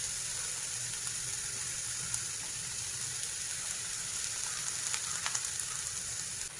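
Chopped onion, green chilli and curry leaves frying in hot coconut oil give a steady, even sizzle throughout, with a few faint crackles near the end and no voices.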